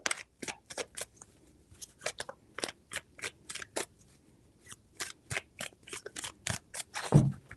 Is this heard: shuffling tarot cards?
yes